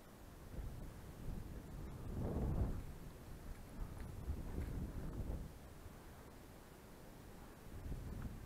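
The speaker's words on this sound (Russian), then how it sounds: "Ветер крутит." Gusty autumn wind blows across an open shore during pike fishing, buffeting the microphone with a low, rough rumble that swells and eases over several seconds, with no voices.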